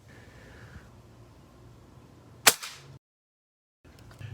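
Barra 1866 .177 lever-action air rifle firing a single sharp shot from a bench rest, a loud crack with a short ringing tail, followed by a brief dead silence.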